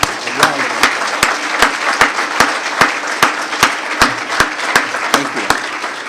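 A State of the City audience in Torrance applauds for a state Assemblyman. A broad wash of clapping is punctuated by crisp, evenly spaced close claps that repeat about three times a second for six seconds.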